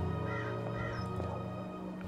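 A crow caws in the video game Dreamfall Chapters, a hoarse, drawn-out call over a dense, steady bed of music and ambience.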